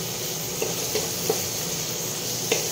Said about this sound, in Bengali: মশলাগুলো অ্যাড করে এটাকে ভালো করে নাড়িয়ে চাড়িয়ে নেব।